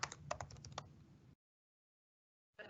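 Quick bursts of computer keyboard keystrokes clatter close and soft for about a second, then stop into silence before resuming briefly; a message is being typed.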